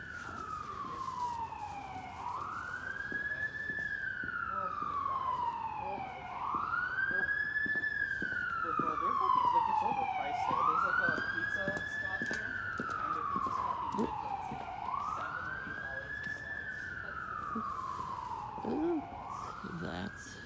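Emergency vehicle sirens wail outside in a steady rising-and-falling cycle, sweeping up and down repeatedly for the whole stretch at moderate loudness, with faint background noise beneath.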